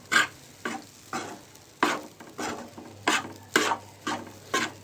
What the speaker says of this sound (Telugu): ఇప్పుడు ఫిష్ ఎగ్స్ ఈ విధంగా వేగిపోయాయండి, చూస్తున్నారు కదా.